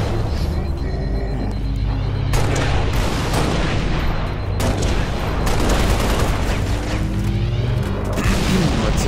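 Assault rifle fire crackles in a Halo Reach battle on Legendary difficulty, dense bursts of shots mixed with booms and rumbling explosions, loud and continuous throughout.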